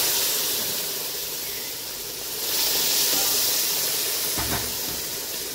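Milk poured slowly into hot roasted semolina in a pan gives a steady broadband sizzling hiss that swells midway and stays loud to the end, with a brief clatter near the finish.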